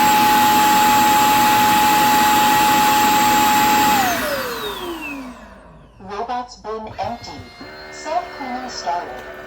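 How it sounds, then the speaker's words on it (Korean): A Dyson Spot and Scrub AI robot vacuum cleaner runs with a loud, steady suction whine that winds down and fades out. A person then speaks nearby. "이제 들어갔고 열심히 먼지를 포집해 올립니다."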